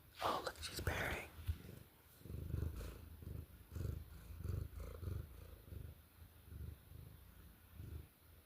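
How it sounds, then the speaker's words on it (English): A soft, rhythmic purr pulses steadily and close, with faint breathy rumbles repeating in slow cycles. "Oh, look, she's purring."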